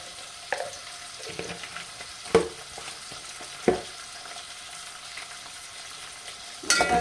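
A taro root curry seasoned with curry leaves and turmeric is stirred in a pan, giving a low steady sizzle broken by a few sharp spoon scrapes and knocks, close by with no voices.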